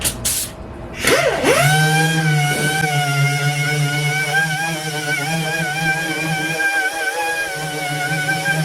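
A power sander with 120-grit paper works over the painted bed of a Chevrolet Silverado pickup, giving a loud steady whirring drone with a strong hum that holds for several seconds, briefly dipping near the end.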